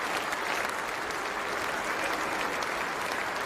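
A large cricket crowd at a famous ground applauds Steve Smith off the field after an innings of 215, a sustained roar of distant clapping that fills the stadium evenly.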